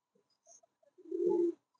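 A single low coo from a Lakha pigeon, soft and close, comes with a few faint chirps just before it. Quiet surrounds the call.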